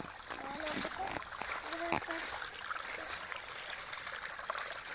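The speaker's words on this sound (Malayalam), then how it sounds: "അയ്യേ അഴുക്ക വെള്ളത്തിൽ കളിക്കണ" Children splash and play in dirty water, with uneven splashes and trickling over a running-water background while children's voices talk and call out over it.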